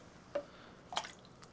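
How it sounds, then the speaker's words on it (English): Hot cooking liquid splashing as tender meat is served for big-batch freezer meal prep, two or three soft, wet drips and splats, quiet and close, with near silence between them. "Trying not to splash myself with the hot liquid"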